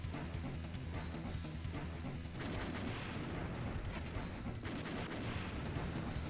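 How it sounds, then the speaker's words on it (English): Grenades dropped over and over in the video game Blaster Master set off a dense, continuous barrage of booming explosions and gunfire, loud and unbroken throughout. "You can just keep on dropping them as much as you want."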